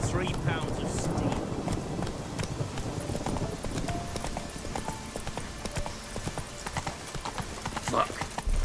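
In The Witcher 3 video game, a horse gallops with rapid, rhythmic clip-clop hoofbeats, close and prominent, and a faint voice is heard at times.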